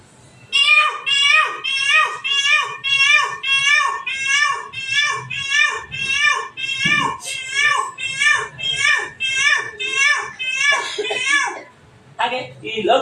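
A peacock calls in a long, rapid series of loud, nasal, wailing cries, close by and repeating at an even pace with hardly a pause.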